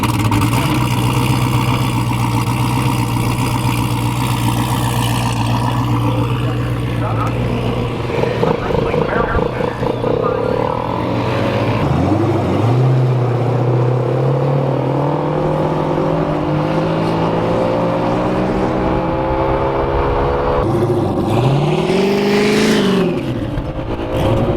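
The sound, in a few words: drag race car driven to heat the tires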